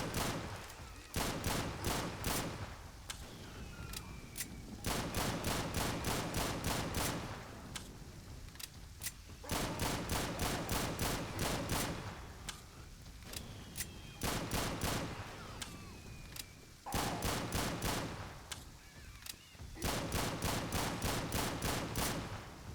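Rapid automatic gunfire in the Left 4 Dead 2 game, firing in long bursts separated by short pauses, loud and close with little else around it.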